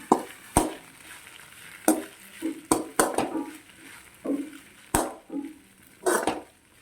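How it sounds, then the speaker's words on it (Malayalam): A spoon stirs a spiced ground beef mix into sautéed onions in a pan for cutlets, with repeated scraping knocks against the metal over a soft sizzle, close and fairly loud. "ഇനി ഒന്ന് ഇളക്കി കൊടുക്കാം."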